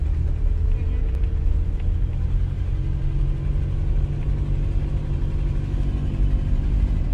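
Car engine rumbling steadily while driving through Saranda, a low continuous drone with a subtle gear change, heard from inside the cabin with people talking.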